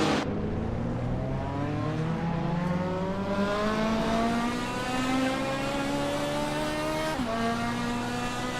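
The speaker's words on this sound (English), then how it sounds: "Ingle McCringleberry is driving a 1964 Ferrari 275 GTBC." A 1964 Ferrari 275 GTBC racing engine in a racing video game drones steadily at high revs, its pitch climbing through the gears with a brief dip near the end, continuous and loud with no talk.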